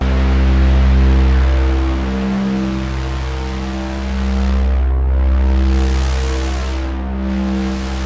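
A Reese bass patch on a Prophet Rev2 synthesizer, with its noise oscillator turned up and audio modulation applied, drones loud and gritty, with slow swelling sweeps and a harsh hissing edge over a deep sustained low end.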